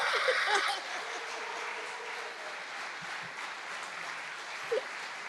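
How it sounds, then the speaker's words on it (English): Steady applause from a large audience at an award ceremony fills the room, continuing evenly for several seconds before a brief faint voice. "Give him a round of applause."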